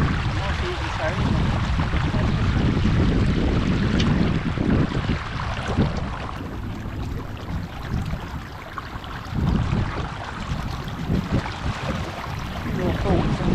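A sailboat heads out of Brancaster Harbour in a northeasterly wind, with steady close wind buffeting the microphone over broadband water wash and hull noise throughout, and speech-like bursts mixed into the rush.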